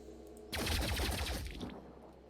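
Turret gunfire in the video game Phoenix Point erupts after a quiet start as a dense, loud burst of rapid shots lasting about a second, then tails off into a lingering low rumble.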